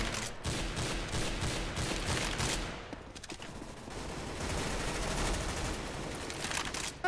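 Dense, sustained bursts of gunfire in the video game Counter-Strike, continuous rattling shots filling the whole stretch with a brief dip midway, fairly quiet overall.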